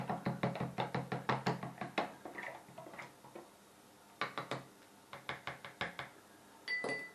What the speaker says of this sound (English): Give that a good stirring with a bit of aeration as well.